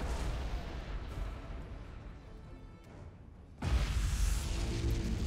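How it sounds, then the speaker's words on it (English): Explosion in the space strategy game Battlefleet Gothic: Armada 2, a dense rumbling battle roar that swells into a louder, sustained blast partway through, with no talking. "Oh, look at that explosion as well."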